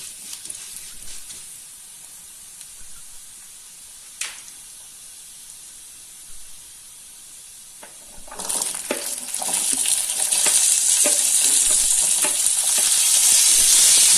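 Small shallots go into a pan of hot oil for an egg gravy, and after a quiet start a loud, close sizzle rises abruptly and carries steadily to the end, with no talk.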